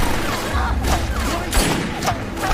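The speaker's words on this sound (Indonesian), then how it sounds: "keburu diperingatkan oleh para perampok dengan menembakkan senjatanya ke atas" A burst of gunfire is shot into the air by robbers in a Korean drama, quick overlapping bangs in a dense, loud, reverberant mix with a low rumble beneath.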